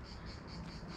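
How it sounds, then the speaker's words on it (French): Cicadas chirping along a rural road in summer, a continuous faint pulsing buzz in the distance with no voices. "on entend le bruit des cigales"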